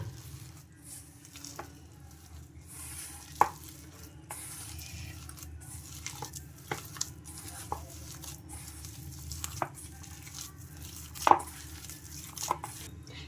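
Rice flour being worked into a wet batter by hand gives soft, quiet squelching and stirring sounds, close by, with scattered small taps and pats against the bowl and no talking.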